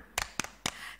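Children in a Sunday school service do the "tepuk semangat" clapping chant, giving three sharp bursts of claps about a quarter second apart, close and fairly loud, with another starting right at the end.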